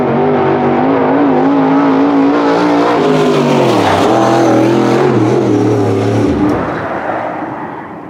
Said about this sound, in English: We've got Billy Franklin in the Rocket XR1 super dirt late model up top